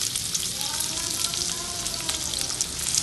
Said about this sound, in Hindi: इसमें मैं प्याज, हरी मिर्चें, बादाम और अदरक इसको कर लेती हूँ सौटे करते हैं